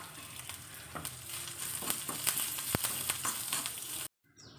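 Green chili and curry leaves frying in hot oil give a close, continuous sizzle and crackle with a few sharp pops, then stop abruptly near the end.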